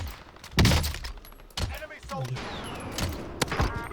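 Gunfire in the video game Warzone comes as several sharp separate shots with thuds between them, mixed with in-game sounds, while a player talks over them.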